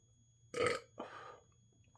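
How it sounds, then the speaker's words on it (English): A single burp after eating a juicy, crunchy hot pepper pod from a Peach Primotalii X Warthog cross, loud and close, with a softer trailing eructation after it and otherwise a quiet background. "Excuse me, pepper burp."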